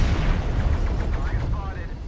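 Mech weapons fire in the video game MechWarrior Online, a rumbling boom and blast of close shots that carry through the whole short span with some faint game tones toward the end.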